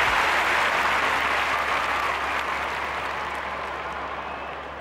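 Crowd applause and cheering in a Summer Olympics video game after a long jump, a steady dense wash of clapping that holds for several seconds at an even level.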